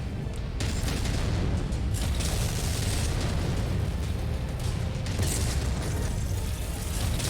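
Missiles from a mech in MechWarrior 5 hit a Hunchback, a steady roar of overlapping explosions and booms that runs loud and dense for the whole span, with no talk.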